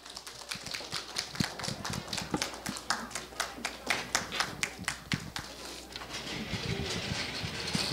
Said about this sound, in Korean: 자, 큰 박수로 모셔볼까요?